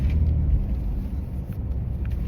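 A Ford Explorer truck rolls through a roundabout, its low engine and road rumble steady and close from inside the cab, with no talking.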